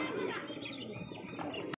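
Pigeons at a pigeon market, close cooing and soft chirps from several birds with a brief flutter of wings, steady and moderately loud against market bustle.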